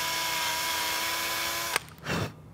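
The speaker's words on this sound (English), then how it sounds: "You need to be careful to not drill all the way out the other side of it." A power drill bores a shallow hole into a 3D printed prop sword part, whining steadily and close for under two seconds before cutting off, followed by a soft scraping handling sound.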